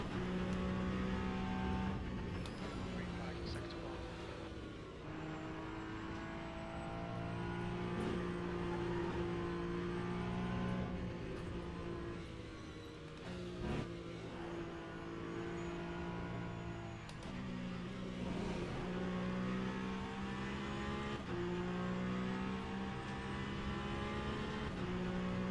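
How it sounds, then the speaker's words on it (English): LMP2 prototype race car lapping Monza in the Le Mans Ultimate sim, with a steady, loud engine drone that rises and falls through gear changes and throttle lifts, no voices. "I'm throwing around an LMP2 around Monza."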